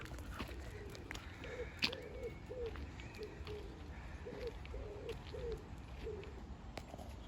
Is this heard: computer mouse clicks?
no